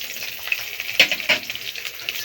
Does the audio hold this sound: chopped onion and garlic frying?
yes